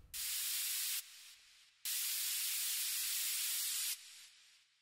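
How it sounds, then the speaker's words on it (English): A hissing burst of white noise plays in two long blocks, each followed by a quieter delayed echo tail that fades out. "we have a layer of white noise with some added delay."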